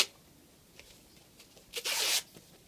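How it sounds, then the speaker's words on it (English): Gaffer tape is pulled and torn while taping up a bike tyre, with a few short ripping sounds ending in one loud, sustained tear close by. "I'm now going to use some more gaffer tape and tape up the other side of the tyre"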